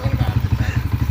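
A motorcycle engine thumps in a fast, even low pulse, close and steady, with each firing stroke clearly separated, while people talk over it.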